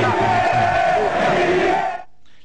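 A stadium crowd at La Bombonera roars in ovation for Riquelme, a dense, loud wall of cheering voices that drops away abruptly after about two seconds.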